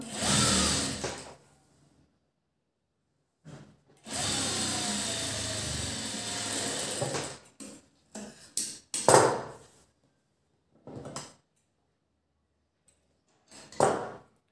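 A sewing machine stitches a piping strip onto a blouse in two sustained whirring runs, close and steady, broken by silent gaps and a few sharp knocks and clicks from handling the fabric.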